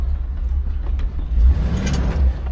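A 1975 Pontiac Grandville convertible with a 455 V8 drives along, its deep low engine rumble steady and close, with road and wind noise over it.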